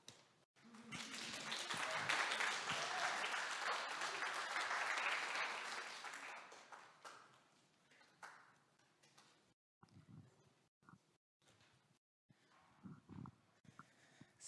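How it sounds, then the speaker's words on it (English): Applause from an audience at an Indigenous Peoples' Day community event, a dense burst of clapping that swells for several seconds, then fades into scattered claps and a few quieter moments. "Please give Karma a clap"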